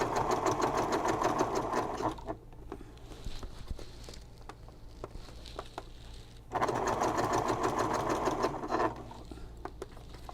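A sewing machine stitches vinyl for a messenger bag in rapid, close, rhythmic bursts, pausing in the middle with quieter handling noises before resuming.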